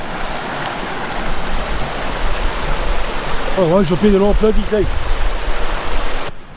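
A river flows with a steady, loud, rushing roar at close range at a wilderness campsite, while someone speaks briefly over the continuous water noise.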